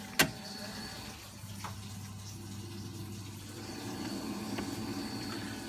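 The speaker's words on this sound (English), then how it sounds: "you can still hear this pump is running nice and strong" A Vaillant boiler's circulation pump runs with the flame off, a low, steady hum and faint watery whir, quiet and close, with a sharp click at the start and a slight swell toward the end.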